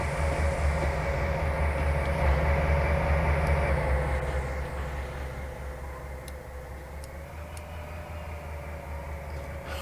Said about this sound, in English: we need to stop this train like right now, because we're out of track right here